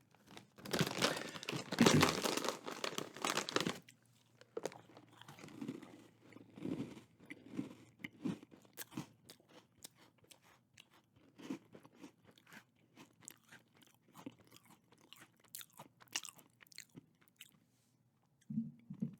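Crisp, close-up crunching and chewing of Dunkin Pumpkin Spice Grahams Goldfish crackers, preceded by a loud crinkling rustle of the snack bag, then a steady run of small bites and crunches with no talk.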